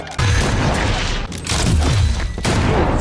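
A gunshot from the Fallout TV series, a loud boom that opens the clip, with dense, heavy low-end blasts and rumble continuing throughout.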